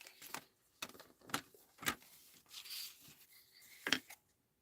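Cardstock being cut for stamping, a series of sharp scraping slices and rubbing strokes from a paper trimmer, irregular bursts at close range in a quiet room.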